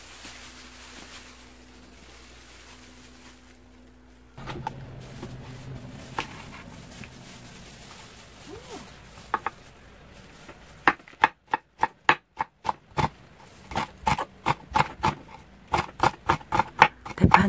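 Dried laver seaweed crushed into small pieces by hand gives crisp, papery crackling, quiet and scattered at first, then a run of sharp, rhythmic crunches close by.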